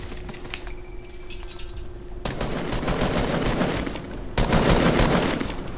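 Rapid automatic gunfire crackles in a 50v50 online shooter game, bursts of fast shots layered near and far, building into dense continuous firing.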